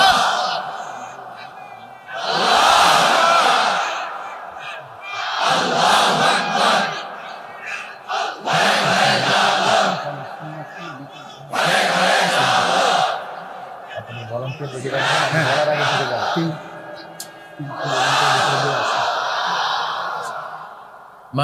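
A large crowd at a religious gathering chants takbir in unison, about five loud, echoing collective shouts separated by short pauses.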